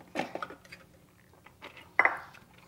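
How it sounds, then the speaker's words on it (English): Sliced celery is taken out of a Cuisinart food processor's plastic work bowl, giving a few light clatters and scrapes, then a sharper knock of plastic or utensil near the end, with no talk. "I will remove now the celery from the working bowl"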